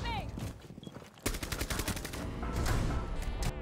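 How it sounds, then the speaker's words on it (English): Rapid bursts of gunfire from a Rainbow Six Siege match, starting after a quiet moment and continuing as dense, loud volleys with a brief voice at the start. "Gunshot?"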